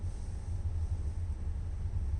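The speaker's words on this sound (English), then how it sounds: "in the background you can hear the furnace running right now" A household furnace runs as a faint, steady low rumble and hum with a soft airy hiss on top, continuous throughout and with no talk.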